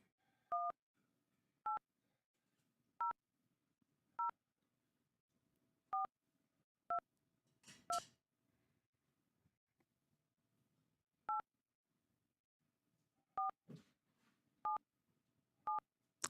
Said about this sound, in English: I'm dialing that number.